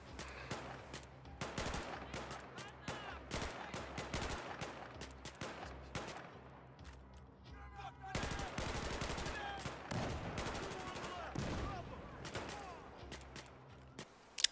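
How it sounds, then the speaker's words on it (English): Rapid bursts of automatic and single-shot gunfire from the video game Battlefield 4 crackle densely in repeated volleys, loud and close, with brief pauses and a faint voice underneath. "And just listen to those awesome gun sounds."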